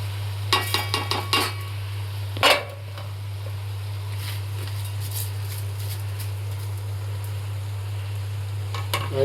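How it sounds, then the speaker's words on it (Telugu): Rice being stirred into prawn biryani masala in a pan: a run of clinking spoon scrapes early, one louder knock, then a soft steady sizzle over a constant low hum, with scattered taps near the end. "రైస్ వేసుకొని బాగా కలుపుకుంటాం అన్నమాట"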